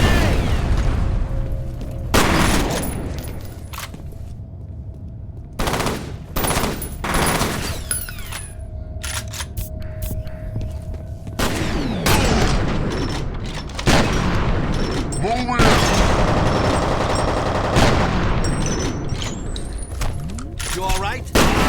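A grenade blast and heavy gunfire tear through a video game firefight, with loud booms and rapid machine-gun bursts repeating throughout at close range and voices shouting over the combat.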